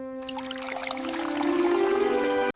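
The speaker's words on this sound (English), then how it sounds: "Pour the whole bottle into the bowl." Liquid glugs steadily from a bottle into a bowl, a continuous close pour whose tone rises as it goes and then cuts off abruptly.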